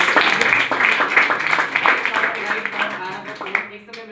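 Audience clapping at a live talk by a speaker, loud and continuous for a few seconds, fading near the end, with a voice speaking over it.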